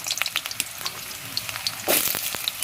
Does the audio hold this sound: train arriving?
no